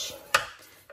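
Paper for a treat box being scored with a tool, giving a couple of short sharp scraping taps about half a second apart, close and fairly quiet.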